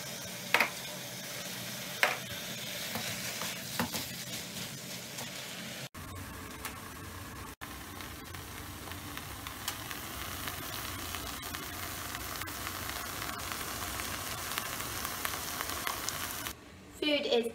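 A vegan lentil bolognese is stirred in a pan, giving a soft continuous sizzle and faint scraping that runs steadily throughout, quiet and close with no voices.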